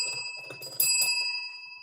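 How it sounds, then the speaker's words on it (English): A service bell is struck once with a bright, sharp ding that rings on and fades slowly, following a brief stretch of quiet talk and rustling. "Ring the bell for service."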